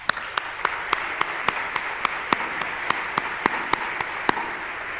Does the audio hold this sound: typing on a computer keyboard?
no